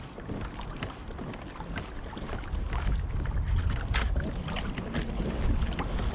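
A pedal kayak moving across open water while trolling, with splashing and sloshing water under gusty wind buffeting the microphone, steady and fairly close, no talk.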